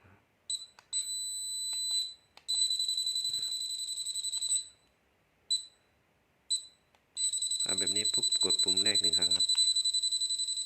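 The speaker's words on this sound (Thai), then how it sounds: "เสียงเตือนครับ สองรูปแบบครับ" High electronic warning beeps from a Greddy unit sound in short bursts, then a long pulsing alarm tone, with a person talking underneath near the end.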